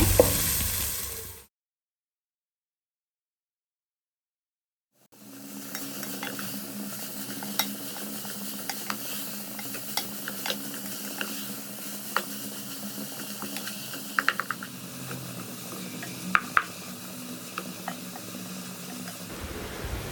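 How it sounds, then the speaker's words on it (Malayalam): Onions fry on a medium flame for Thalassery biryani and are stirred in the pan. After a brief silent gap, a steady sizzle sets in, broken by scattered spoon scrapes and clicks against the metal. "മീഡിയം ഫ്ലെയിമിൽ വെച്ചിട്ട് വേണം നമ്മൾ ഉള്ളി നന്നായിട്ടൊന്ന് മൂപ്പിച്ചെടുക്കാൻ"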